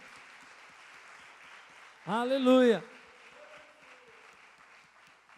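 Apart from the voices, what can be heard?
congregation applause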